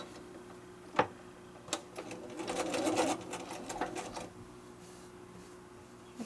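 A sewing machine runs in a short burst while a fabric strip is stitched in foundation piecing for a scrappy braid quilt pattern, with a few clicks before and after, close and fairly quiet.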